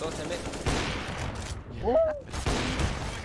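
Rapid bursts of automatic gunfire from a first-person shooter video game, loud and close, with a gamer commentating over the shots and a brief whooshing effect in the middle.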